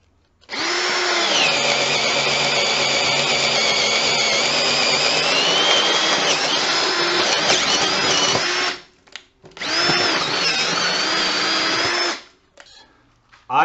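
Refurbished Ridgid cordless drill at speed 1 drilling into wood: a loud sustained motor whine lasting several seconds, a brief stop, then a second shorter run before falling quiet.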